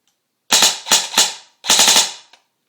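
A Colt M4A1 S.I.R replica rifle fires in automatic mode: three sharp bursts of close, loud cracking shots in quick succession, then silence.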